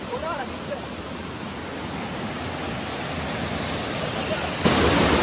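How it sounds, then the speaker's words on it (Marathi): Forest waterfall in hilly Konkan jungle near Bhadgaon, a steady dense roar of rushing water that stays loud and unbroken throughout, close by, with no voices. "पूर्ण डोंगरात ना वॉटरफॉल आलेला आहे"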